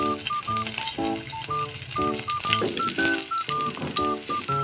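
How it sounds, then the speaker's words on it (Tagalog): Garlic sautéing in a little cooking oil, a steady close sizzle with rattling, clinking stirs and scrapes of a utensil in the pan. "Butang tamantika dutay lang. Para mag-isa lang natin ang aton ahos. Butang na aton ahos. Igisa na natin."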